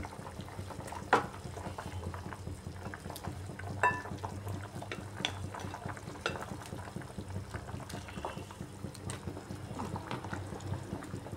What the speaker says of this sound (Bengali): ঝোলটাকে একটু ফুটিয়ে নিচ্ছি এখন